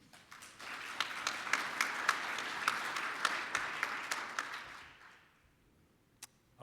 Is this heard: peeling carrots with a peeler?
no